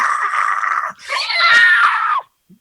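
A voice imitates an unholy screech: a loud, strained, raspy shriek held for about a second, a brief gap, then a longer wavering scream that cuts off sharply.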